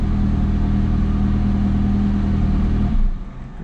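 A 2018 McLaren 570S Spider's engine idles loud and steady up close, a deep continuous drone that drops away as it shuts off near the end.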